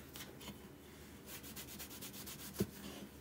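Hand buffing of a painted Dollar Tree craft piece, a carrot farm decoration: soft, steady rubbing strokes repeat close by at low volume, with one brief knock near the end and no talking.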